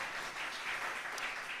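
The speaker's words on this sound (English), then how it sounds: "give yourselves an applause" Audience applause at an autumn arts celebration concert, a steady wash of many hands clapping, fairly faint and distant, sustained evenly throughout without voices over it.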